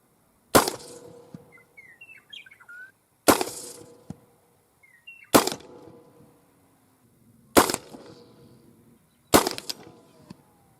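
Five sharp shotgun blasts firing rope dart slugs downrange, evenly spaced about two seconds apart, each loud crack followed by a short echoing tail and birdsong chirping faintly between shots.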